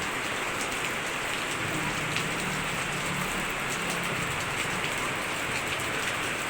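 Steady heavy rain pouring down, a dense even hiss of drops hitting surfaces without pause, with no voices.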